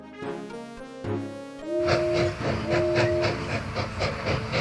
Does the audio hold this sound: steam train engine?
yes